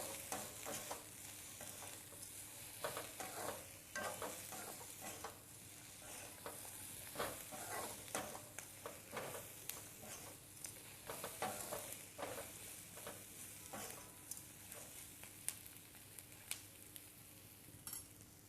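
Masala spices fry in a pan, a faint, steady sizzle broken by repeated scraping and clinking of a stirring utensil against the metal.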